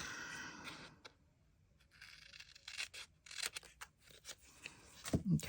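Scissors snipping through fabric scraps during sorting, with a run of short close crisp cuts and rustles, some quick in succession, followed by louder fabric handling at the end.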